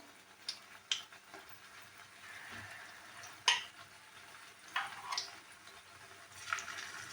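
Fish roe fritters fry in hot oil with a low, quiet sizzle, punctuated by scattered sharp pops and crackles and a few soft utensil taps.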